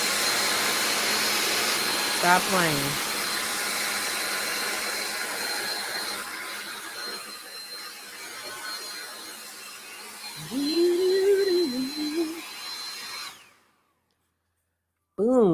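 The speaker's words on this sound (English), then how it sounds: "Sweating between the lights and this blow dryer." A handheld blow dryer runs continuously at close range as a steady whooshing roar for about thirteen seconds, with a brief voice partway through, before cutting off abruptly into silence.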